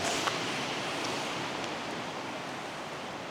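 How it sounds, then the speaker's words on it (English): Steady broadband rushing noise of wind blowing outdoors on a snowy winter campsite walk at -12C, constant and fairly loud throughout, with no voices. "It is really windy out here."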